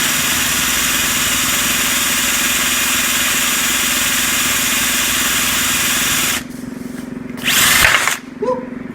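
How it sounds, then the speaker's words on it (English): A power drill fitted with a half-inch bit bores a hole down through a floor, a loud, steady high whine for about six seconds before it stops, followed by brief clattering handling noises. "Drilling"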